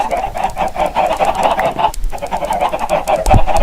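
A dense flock of Minecraft chickens clucking and squawking all at once, a loud continuous chattering cackle with no talking.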